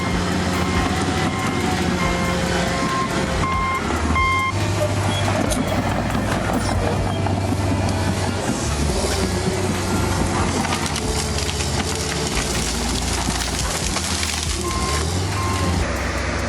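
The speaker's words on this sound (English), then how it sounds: "This TG-120 bulldozer carves a single-lane pathway through towering trees, creating access where none existed before." A TG-120 bulldozer working through dense forest while cutting a single-lane road, a continuous loud engine drone with rumbling low tones, creaks and intermittent high beeps for the full stretch.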